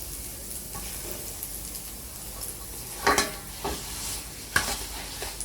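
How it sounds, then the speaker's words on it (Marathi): Hot oil poured over a raw mango pickle mix, giving a faint sizzle with a few sharper crackles and spatters near the middle and end, no talk. "असं थोडं गरम तेल टाकायचं"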